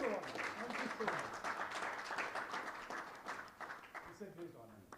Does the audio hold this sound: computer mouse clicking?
no